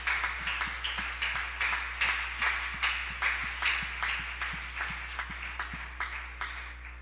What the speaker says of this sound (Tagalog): Malakas na palakpak po sa ating dakilang Diyos.